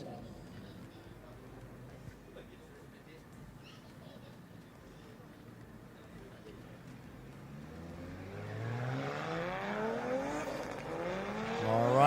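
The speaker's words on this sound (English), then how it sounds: "cars warming up their tires right now in the burnout area" Drift cars warming their tires in the burnout area at the Drift Kings Asia Cup in Malaysia, engines revving harder and rising in pitch toward the end over a steady crowd and track ambience.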